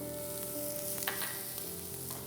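Finely chopped onions and fresh curry leaves sauté in a hot pan for a mushroom dish, giving a steady low sizzle with faint stirring clicks, close and quiet, no voices.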